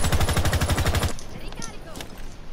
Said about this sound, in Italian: Perché spari?